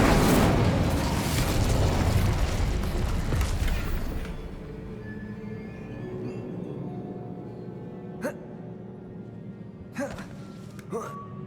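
A fire spell cast in Hogwarts Legacy erupts in a loud, dense whoosh and crackle that fades after about four seconds, followed by quieter ambience, a few sharp pops and talk.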